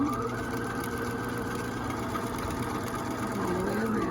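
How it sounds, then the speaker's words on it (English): A sewing machine stitches a denim jean bag with a continuous, even motor hum and needle chatter that runs steadily and close. "Needle down, and then I'm going to continue sewing"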